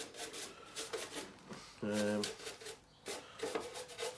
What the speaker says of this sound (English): Paintbrush does quite well for big dry stuff, as you can see.